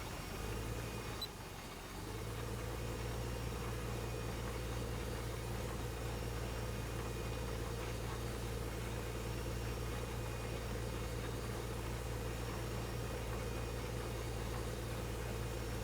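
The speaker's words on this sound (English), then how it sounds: "we can kind of just push the tractor out of the way" A tractor engine in Farming Simulator 15 idles and runs with a steady low drone that holds for the whole stretch, a brief dip near the start, with no talking over it.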